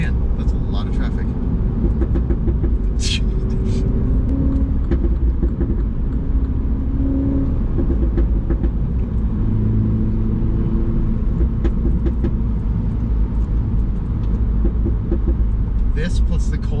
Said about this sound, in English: Man, that's a lot of traffic.